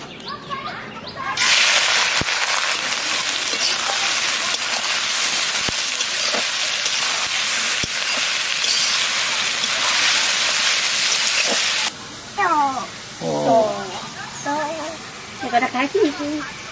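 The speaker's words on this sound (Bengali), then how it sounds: "এই দেখুন পেঁয়াজটা তেলের উপর দিয়ে দেবো" Onions dropped into hot sunflower oil for chicken biryani give a loud, steady sizzling hiss lasting about ten seconds. The hiss then stops abruptly, followed by someone speaking and birds chirping nearby.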